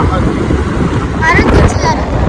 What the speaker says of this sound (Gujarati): હજી ઠંડી હવા નથી ગરમ ગરમ જ પવન આવી રહ્યો છે